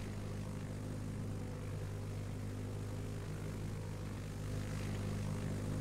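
Airplane engine in the Roblox game Navy Sim, a steady, unbroken low drone with a constant hum, heard alone throughout.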